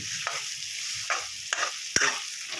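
Potatoes for sukhi bhaji stirred and fried in a pan, with a loud constant sizzle broken by rhythmic spatula strokes about every half second, close up and without talk.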